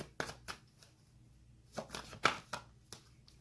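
Soft papery riffles and flicks of a tarot deck being shuffled, a few separate bursts with quiet gaps between them, close by and fairly quiet.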